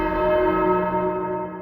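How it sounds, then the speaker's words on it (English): A single bell tolls on a Soul Calibur 2 video game stage, a loud, resonant strike whose rich ringing tone hangs and slowly fades with no talk. "you might first hear the sound of a bell ringing, which according to the description happens in honor of chosen warriors"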